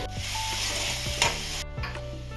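Onions sizzle in oil with mustard seeds, salt and turmeric for a Nellore drumstick curry, with a spatula scraping the pan in a few distinct strokes over a close, continuous frying hiss.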